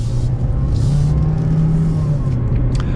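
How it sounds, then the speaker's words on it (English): A 2022 compact SUV, a Jeep Renegade or Ford Bronco Sport, accelerating in normal mode, giving a steady engine drone with a rising tone that holds strong and close for about three seconds. "we'll give it one acceleration just in normal mode here."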